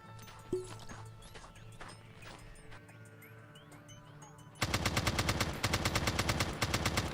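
Quiet game ambience with faint clicks gives way to a loud, sustained stream of rapid machine-gun fire from a prototype video game, evenly spaced shots hammering on for several seconds.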